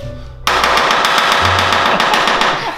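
A rapid, loud, rattling, machine-gun-like clatter bursts in abruptly as a boosted rat rod's engine blows apart during a run, sustaining harshly for over two seconds under a low drone.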